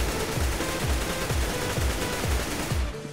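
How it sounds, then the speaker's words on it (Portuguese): Rapid bursts of AK rifle gunfire in Counter-Strike: Global Offensive, repeated sharp shots in quick rhythmic volleys, loud and continuous throughout. "Ó, os tiros"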